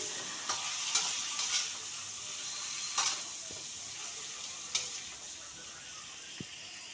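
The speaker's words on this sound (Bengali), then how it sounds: "তেলে আমি আলু পটলটা আমি ছেড়ে দিয়েছি আলু পটলটা একটু ভালো করে ভেজে নেব" Potato and pointed gourd frying in oil in a home kitchen, a soft steady sizzle broken by a few sharper clinks and scrapes of stirring, quiet and close.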